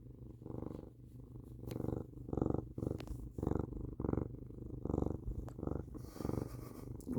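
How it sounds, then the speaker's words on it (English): Black cat purring right at the microphone, a soft rhythmic rumble that pulses in and out with each breath, about a dozen regular cycles, intimate and alone. "Why are you so purry?"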